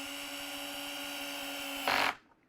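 A power drill drives a 2-inch 8-gauge screw into a router table fence extension with a steady close whine, then briefly louder and rougher as the screw seats, before stopping abruptly.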